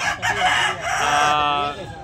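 A rooster crows at a chicken market in Tabunok, Talisay, Cebu, giving one loud, drawn-out call lasting about two seconds, with faint market noise underneath.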